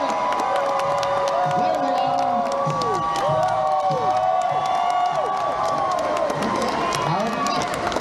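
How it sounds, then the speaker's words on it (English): A convention panel crowd for the Cobra Kai stars at a Dallas fan expo cheers, whoops and applauds loudly and steadily throughout, with voices shouting over the dense din. "let's give a big round of applause to our stars"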